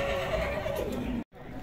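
A horse whinnies at the Sokuluk horse market in Chüy, a clear drawn-out call over steady market noise and nearby voices, cut briefly by a short gap near the end.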